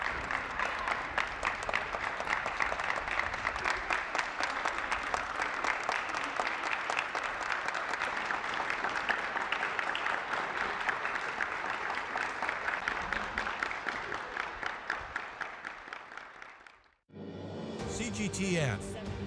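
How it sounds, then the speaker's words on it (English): Sustained crowd applause from people at their windows in Turkey cheering healthcare workers, steady and dense clapping that fades out near the end before a brief unrelated sound. "people gather at their windows to applaud healthcare workers in an act of gratitude for their work"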